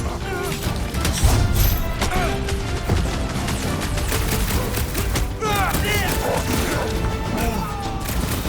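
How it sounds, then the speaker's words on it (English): Rapid gunfire in a busy firefight in Marvel's Guardians of the Galaxy, crackling bursts layered with smashes, impacts and music, with voices calling out over the dense, continuous action. "Keep shooting!"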